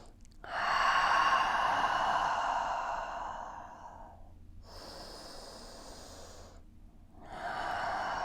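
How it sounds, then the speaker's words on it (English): Deep, audible breaths during a yoga forward fold: a long airy exhale, then two further breaths separated by brief silences, close and fairly soft. "Take 3 deep breaths here"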